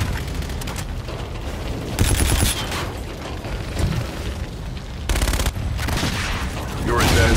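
Gun run strafing fire in a video game, loud bursts of rapid automatic gunfire and booming impacts arriving in several waves over constant battle noise and mechanical rumble, with a brief radio voice underneath.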